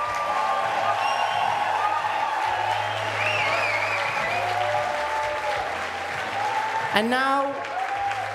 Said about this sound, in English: Please give a round of applause for these ladies